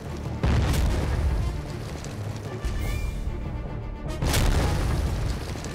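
Heavy booming artillery and explosions from a D-Day strategy video game, a few deep blasts rolling out loudly with rumbling tails in between, no talk.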